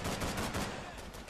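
Rapid, continuous gunfire from the World War II shooter Call of Duty 3, a fast rattling burst that is close, moderately loud, and brief, with no one speaking over it.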